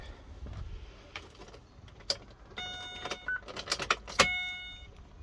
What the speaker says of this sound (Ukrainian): Треба відкрити автомобіль